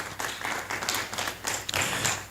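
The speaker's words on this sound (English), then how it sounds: "A round of applause for him," Audience at a professional-year opening ceremony clapping after a presentation, a short, fairly soft burst of applause with no talk.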